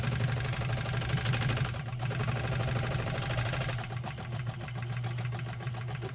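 A Pfaff 130 sewing machine stitching its widest zigzag, a steady close mechanical whir with a fast rhythmic needle clatter that runs continuously, slowing slightly in the second half.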